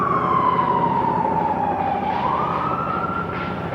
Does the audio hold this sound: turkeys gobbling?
no